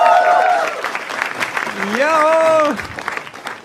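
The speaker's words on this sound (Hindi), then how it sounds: "जोर तालियां हो जाए पैनल के लिए" Studio audience at an Indian comedy talent show clapping and cheering for the panel, a steady loud wash of applause under a host's voice and sung or shouted tones.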